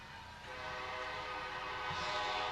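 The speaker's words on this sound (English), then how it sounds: "Train is brought to us by Amtrak." An Amtrak passenger train sounds its horn while passing through town during a parade, the sustained blast rising and holding loud over the rumble of the cars.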